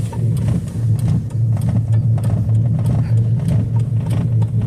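A car engine drones steadily from inside the vehicle while driving, a close, loud low rumble with faint road noise and light rattles throughout.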